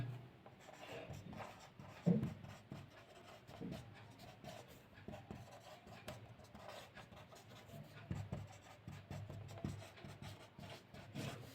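Pen scratching across paper while writing out a maths method, soft rasping strokes with small taps, faint and close, no talking.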